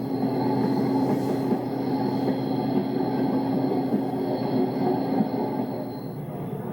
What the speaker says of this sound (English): I'm riding a train.